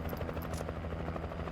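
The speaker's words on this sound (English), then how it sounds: "Helicopter, I'm ready." A helicopter in the game Alan Wake gives off a steady rotor drone with a dense low throb, continuous and fairly close, with no voices.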